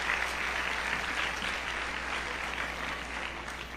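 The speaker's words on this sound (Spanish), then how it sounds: "un aplauso otra vez" Warm, sustained clapping from a crowd of teenagers at a church youth congress, even and fairly loud throughout, tapering only slightly over a few seconds.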